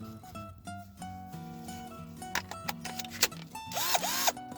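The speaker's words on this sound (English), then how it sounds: "Plenty of power in the drill." A power drill drives sheet metal screws into a Chevy camper van door in short bursts, with sharp clicks and a rising, falling whine near the end, close and moderately loud.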